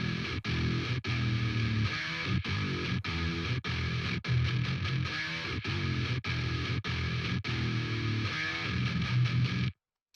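Heavily distorted, tube-style electric guitar tone from the Shreddage 3 Argent virtual instrument, using its bottom amp tone, playing a dense rhythmic metal riff with palm-muted chugs and short bends, loud and unbroken before stopping abruptly.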